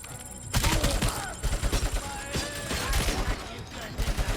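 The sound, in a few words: heavy machine gun fire in RoboCop: Rogue City video game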